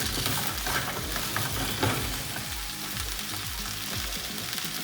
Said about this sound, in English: just going to saute it until the color turns